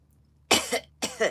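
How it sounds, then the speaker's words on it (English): Two short, harsh coughs, close and loud, separated by a brief pause. "I'm still coughing"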